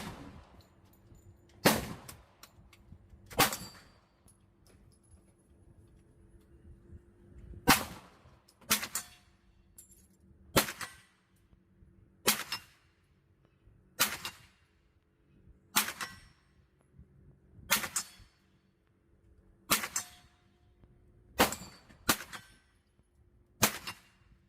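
A Bear Creek Arsenal BC-9 rifle firing S&B ammunition at a range, about a dozen sharp, separate shots spaced a couple of seconds apart, each ringing briefly over quiet background hum.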